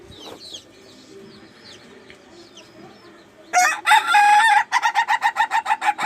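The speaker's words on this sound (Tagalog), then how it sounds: "Pakinggan natin ang kanyang tilaw." A rooster of the kitawan type gives a short, loud crow up close near the end, with soft clucks and background birdsong beforehand.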